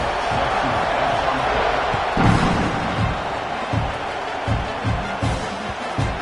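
Football video game stadium crowd before a kickoff, a dense continuous roar of fans with rhythmic low thumps and swells of cheering rising and falling throughout, steady and fairly loud.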